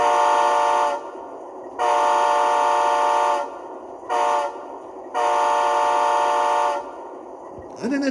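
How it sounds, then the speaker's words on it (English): A DCC sound-equipped Athearn Genesis Dash 9-44CW model locomotive, Union Pacific 9702, blows its air horn in a long, long, short, long pattern of loud chordal blasts separated by brief gaps, with no talking. "the horn sounds like this because I programmed to that version too"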